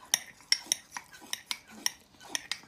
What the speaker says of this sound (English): now you're going to want to mix your mixture